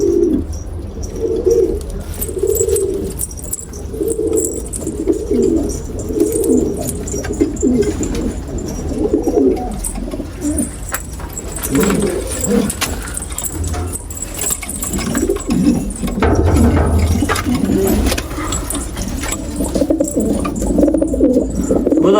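Pigeons coo in a coop with repeated throaty, pulsing calls, close and clear, overlapping in a steady rhythm over a low background hum.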